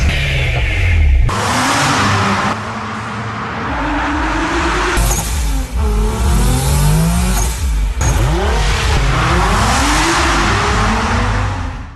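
Race cars at an STT time trial speed championship roar past one after another, loud and close, with engines revving hard, rising and falling pitch sweeps as gears change, and brief tire noise between passes.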